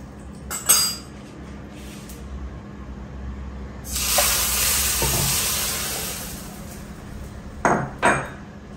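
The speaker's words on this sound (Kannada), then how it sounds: "ಸಾಸಿವೆ ಚಟಪಟ ಅಂತ ಸಿಡಿತಾ ಇದೆ" Mustard seeds crackle and splutter in hot oil for a tempering in a home kitchen, a steady sizzling hiss rising through the middle with a few sharp clinks and stirring knocks at the start and end, no voices.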